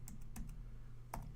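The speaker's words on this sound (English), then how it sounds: "I can click here and just type in" Several crisp computer keyboard keystrokes in quick, irregular taps, close and fairly quiet over a low steady background hum, with no talking.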